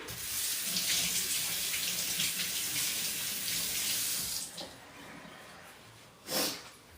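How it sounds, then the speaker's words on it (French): Hands rinsed under a running kitchen tap while cooking, a steady close splashing stream for about four seconds that then stops, followed by a few brief drips and a short sniff. "Je me rince les mains."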